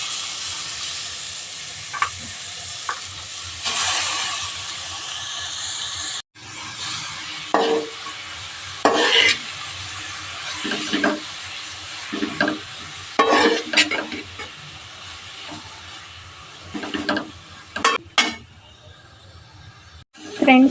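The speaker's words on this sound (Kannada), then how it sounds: "ತುಪ್ಪದಲ್ಲಿ ಈ ರೀತಿ ಚೆನ್ನಾಗಿ ಫ್ರೈ ಮಾಡ್ಕೋಬೇಕು ಕ್ಯಾರೆಟನ್ನು" Grated carrots fry in ghee for carrot halwa while a spoon stirs and scrapes the pan in repeated short bursts over a constant sizzling hiss.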